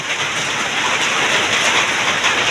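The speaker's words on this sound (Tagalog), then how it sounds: "Walang tigil po yung ulan." Steady, dense hiss of heavy rain pouring down, constant and loud with no pauses, filling the whole stretch.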